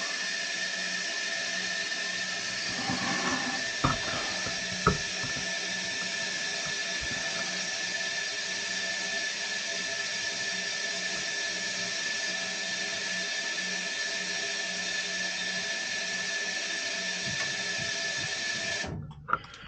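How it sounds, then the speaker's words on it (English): A steam boiler's water feeder runs as the boiler fills with water, giving a steady continuous whir and rush that holds unchanged before cutting off near the end with a click. "Here's the water feeder. It's running."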